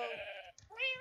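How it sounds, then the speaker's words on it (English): A blocky video-game sheep, a rainbow-coloured one in a Minecraft-style world, gives a short bleat that is quickly followed by a second one, both close and clear with no talk over them. "I have a rainbow sheep."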